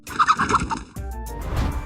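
Comic chicken clucking from the Gnomish Experimenter card in Hearthstone: a quick burst of loud, gobbling bird calls, then a lower squawking tail, alone without talk.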